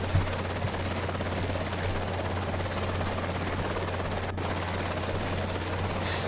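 Helicopter flying in the video game EmergeNYC on an NYPD air-sea rescue mission, a steady, droning rotor and engine hum with a low throbbing pulse, constant and fairly loud throughout.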